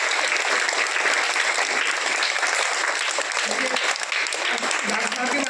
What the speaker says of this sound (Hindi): इनके लिए ताली बजाइए एक बार।